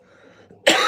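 A single harsh, loud cough from a person with a bad cough bursts out after a moment of quiet, close to the microphone.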